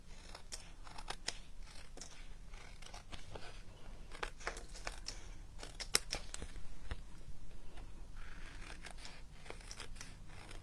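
Scissors snipping white card scraps during card-making, a steady run of crisp close cuts and light paper rustles at low volume, with no voice.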